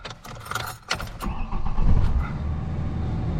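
A 2001 Ford Ranger with a 2.3L engine starts up after a new speed sensor is installed: a few clicks and a keys-like jangle, then cranking catches into a steady, close idle rumble.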